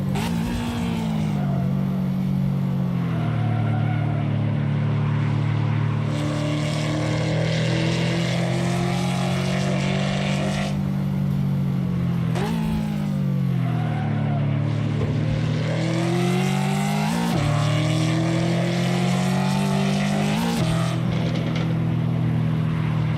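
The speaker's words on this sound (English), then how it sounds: "Love the exhaust on it, man. The exhaust sound is real nice. I like the tune, the crackling, the popping sound." Ford race car engine in Assetto Corsa, a loud continuous exhaust drone rising and falling through gear changes, with rough crackle and pops on the overrun.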